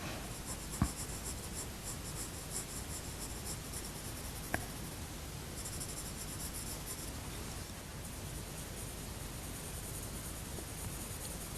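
Coloured pencil shading on paper to build up pale skin tones, a soft continuous scratchy rasp at low volume with two faint taps, no voices.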